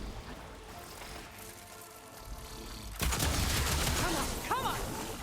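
Mortar shells land nearby in a video game, a sudden loud burst of explosions and rumbling debris after a steadier stretch of battle noise, with a few sharp tonal effects toward the end.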